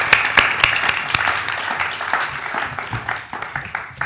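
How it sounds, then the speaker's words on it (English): Applause from an audience at a panel event on unretirement greets Victoria as she comes on stage, starting strong with sharp close claps, then thinning and fading toward the end. "Give her a round of applause"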